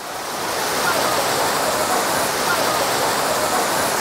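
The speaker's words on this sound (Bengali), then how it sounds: "অসাধারণ লাগছে কিন্তু উষ্ট্রী নদীর ঝর্ণা" Waterfall on the Ushtri river beside a marble temple, a steady broadband roar of falling water that stays loud and even throughout, with no voices over it.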